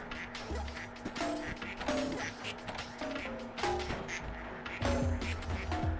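Repeated duck quacks from a game in Project PITT, several short nasal calls spread across a few seconds over a steady tonal hum, with occasional light taps between them.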